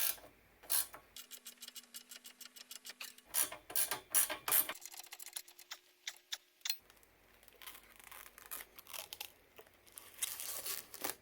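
A hand ratchet tightening bolts on UTV LED light bar brackets, quick runs of sharp clicking strokes close by, broken by short pauses and some rustling handling noise.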